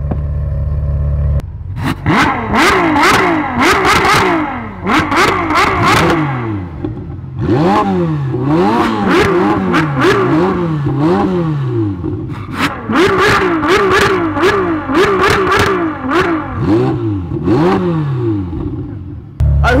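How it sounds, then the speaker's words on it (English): Two Ferrari supercars, an 812 Superfast V12 and a 488 Pista turbo V8, drag racing: loud, sustained engine roars with rising revs and repeated upshifts, close and continuous for the whole stretch, with no talking. "definitely think Marcus won that one because that's a V12, so of course it's gonna sound better than any V8 turbo"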